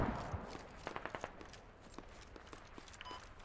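Gunfire in a 100-player military simulation squad PvP game, a series of faint, distant shots in short bursts, some rapid, scattered through the clip with soft movement noise between them.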